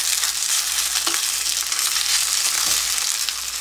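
Flat dumplings (napjak mandu) fry on a hot griddle, a loud, close, continuous sizzle with faint scraping as they are turned and lifted.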